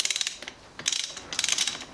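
Ratchet wrench loosening the 13 mm and 15 mm brake caliper bolts on a cafe scrambler motorcycle build: quick bursts of close, crisp clicking ratchet strokes separated by short pauses.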